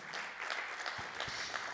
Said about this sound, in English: Clap your hands if you're learning already.